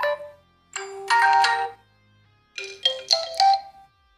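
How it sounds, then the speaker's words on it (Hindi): A mobile phone plays one of its built-in system ringtones, two short bursts of bright chiming tones separated by a pause, clear and close with nothing else behind them. "यहाँ पर काफ़ी अच्छे अच्छे सिस्टम रिंगटोन दिए रहते हैं"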